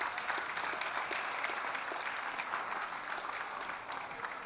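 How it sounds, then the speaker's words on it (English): Steady crowd applause at a European League of Football season kickoff press conference greets the league commissioner and CEO, a dense, even wash of clapping from a sizable audience, moderately distant. "Big applause, guys"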